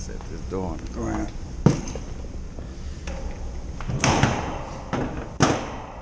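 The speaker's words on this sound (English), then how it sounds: "Set this door on the ground." An HVAC unit's metal access panel is set down on the ground with a few sharp clattering thuds, close by, while someone talks over the work.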